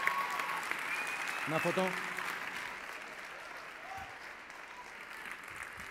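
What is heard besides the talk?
audience applauding winner at sports gala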